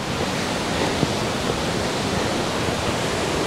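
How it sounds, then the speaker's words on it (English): Mae Klang waterfall in Inthanon National Park, Thailand, roars as a dense, steady broadband rush of falling water, close and continuous with no voices. "KLANG waterfall."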